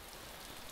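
Rain falling in the video game DayZ makes a soft, steady, faint hiss of drops on surfaces, with no voices over it.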